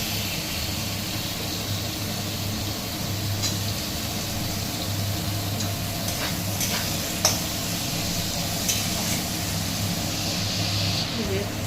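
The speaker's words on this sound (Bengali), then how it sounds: "আমাদের পেঁয়াজ ভাজা ভাজা হয়ে গেছে তো এরপর দিয়ে দিচ্ছি এর মধ্যে টমেটো কুচি" Chopped tomato fries with onions in a pan, giving a steady, even sizzle with occasional stirring scrapes and a faint low hum underneath, no voices.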